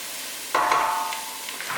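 Carrots for soup softening in a pan, a soft stir and rising sizzle starting after a short quiet moment and continuing steadily, close and moderately loud.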